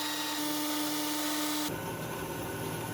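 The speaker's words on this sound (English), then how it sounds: "Now we are going to machine this aluminum cylinder" Aluminum cylinder being machined on a power tool: a steady, loud whirring cut with a high whine, the tone shifting abruptly partway through as the tool engages differently, continuous with no talk.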